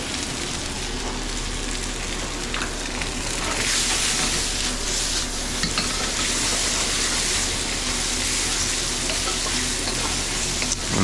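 Day-old pasta stir-fries in butter and olive oil, a loud, steady, dense sizzle with scraping and stirring noises that builds slightly and continues without pause.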